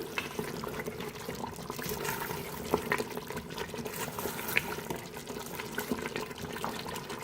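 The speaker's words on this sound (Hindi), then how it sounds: "अब हम पानी शामिल करेंगे।" Steady splashing and trickling of water being poured into a cooking pot of beef trotter curry, with a few small clinks over a low background hum.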